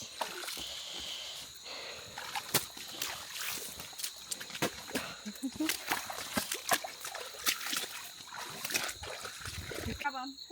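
Boots splash and slosh through a small stream in the Amazon, with uneven, close splashes and trickling water, while a person talks over the sloshing.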